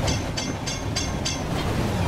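A train in a Roblox railway game runs at full throttle along the rails, a loud steady rumble with regular clickety-clack beats from the wheels roughly every third of a second.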